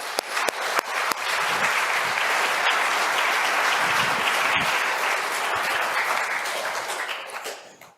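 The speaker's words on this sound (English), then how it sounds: "So would you please give a warm applause to Rob Morris this morning?" Sustained, warm audience applause for a guest speaker at a morning event, a steady roomful of clapping lasting several seconds before fading out at the end.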